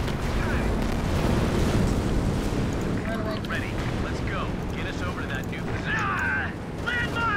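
Heavy artillery fire in the Company of Heroes 2 strategy game, deep booming blasts that roll into a sustained low rumble, with in-game radio chatter and voices heard over it.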